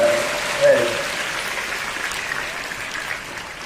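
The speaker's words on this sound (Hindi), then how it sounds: "एक बार जोरदार तालियां। रुकनी नहीं चाहिए, इस तरीके से बजने चाहिए। तेज जोरदार।" Applause from the audience at a school prize-distribution ceremony at a science inter college, a steady wash of clapping held at a moderate level for several seconds, with a brief voice near the start.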